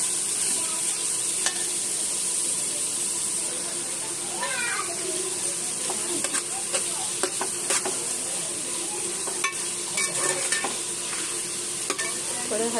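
Finely chopped ingredients for egg mughlai frying in a pan, a steady sizzle throughout with occasional stirring scrapes and clinks.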